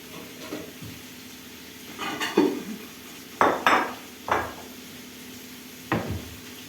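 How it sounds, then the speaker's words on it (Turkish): Dishes and cutlery clink and clatter in a few sharp knocks over a faint background wash, close by, with no talking. "Tezgahının üzerine görüyorsunuz yine bulaşık, yalaşık. Bir taraftan yıkayıyoruz"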